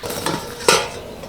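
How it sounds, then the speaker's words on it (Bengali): A metal lid lifted off a cooking pot of an oil-free steamed snack, giving a brief scrape and then a sharp, close clank, with a faint hiss of escaping steam and no talking. "এবার ঢাকনাটা খুলে দেখবো ঠিকঠাকভাবে রেডি হয়েছে কিনা"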